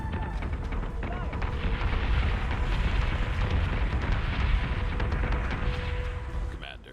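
Missile impacts and explosions in the Battlestar Galactica: Deadlock space combat video game: a loud, sustained barrage of rumbling blasts and bursts that fades toward the end.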